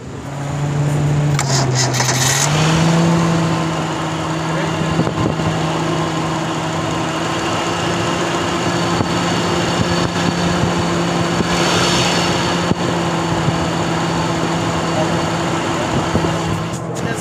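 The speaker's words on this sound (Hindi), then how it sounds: "गाड़ी का इंजन का साउंड भी चेक कर लिया, साउंडलेस गाड़ी है, ज़्यादा साउंड नहीं है इंजन में।" A Suzuki Margalla car engine idles steadily at close range, a low even hum with a brief rise near the start, then settling into a constant drone with no talk.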